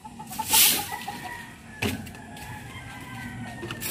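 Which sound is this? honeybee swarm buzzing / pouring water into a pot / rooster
rooster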